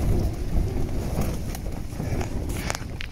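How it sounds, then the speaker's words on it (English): Strong wind buffeting a tent at a wild camp in 35 mph gusts, a continuous rumbling roar with fabric flapping and rattling close by, plus a few sharp snaps near the end. "watch when that wind gets up. This whole tent bends in."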